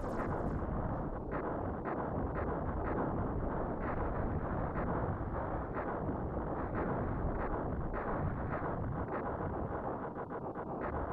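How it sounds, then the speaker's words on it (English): Rapid, dense bursts of explosions crackle and rumble nonstop, loud and close, overlapping into a continuous roar with no talking, from a Star Fox 2 video game cutscene. "maybe in this cutscene actually, because of all the explosions."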